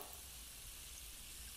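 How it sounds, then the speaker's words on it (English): Faint, continuous frying sizzle from a donut cooking simulator game, a soft steady hiss with no talking over it. "Something's frying and it's so annoying and I hate it"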